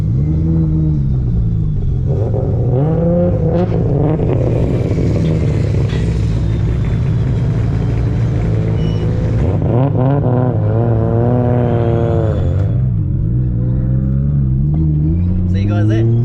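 Around 25 car engines rumble and rev together as a car meet group departs, a loud continuous low drone with rising and falling revs as the vehicles pull away.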